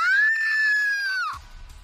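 A woman gives a single sustained, piercing scream in a horror audio drama, loud and close, holding for over a second before it breaks off into a short gasp.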